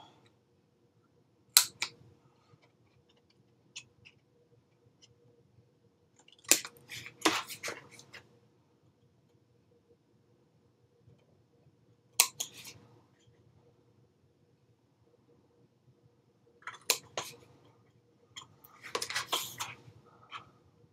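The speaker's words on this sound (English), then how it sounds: "and cut out these corners." Scissors snipping the corners off a paper card, a handful of sharp, separate cuts spaced across a quiet room with long silences between them.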